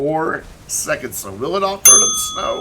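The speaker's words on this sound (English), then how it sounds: "I thought that was my phone chiming behind me." A single bright bell-like chime rings out sharply near the end of a stretch of talk during GTA Online gameplay, mistaken for a phone notification, and its clear tone lingers under the voice.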